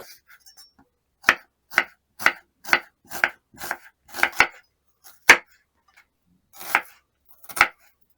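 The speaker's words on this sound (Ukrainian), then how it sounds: "цибулю нарізати напівкілечками" Knife chopping an onion into half rings on a cutting board: about a dozen crisp, evenly spaced chops, close and clear, with a short pause near the end before two more cuts. Nothing else is audible.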